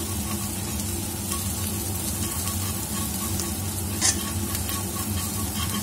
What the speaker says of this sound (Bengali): অল্প ধনে গুঁড়ো আর অল্প জিরে গুঁড়ো দিয়ে ভালোভাবে কষিয়ে নেব